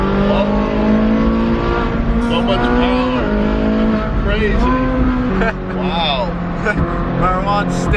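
Ferrari sports car driving hard, its engine loud and close from the cabin, revving up through repeated rising pitch sweeps between shifts, with people talking over it.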